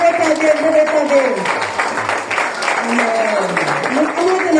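A church congregation applauding during worship, with continuous clapping under a speaking or chanting voice that carries through most of it.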